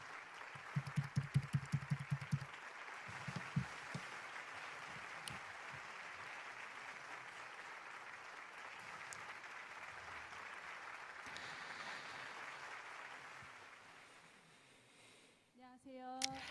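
Scattered, brief applause welcoming a Korean-Japanese engaged couple at a youth blessing festival, a few quick claps near the start, then a long stretch of faint hall ambience and muffled noise.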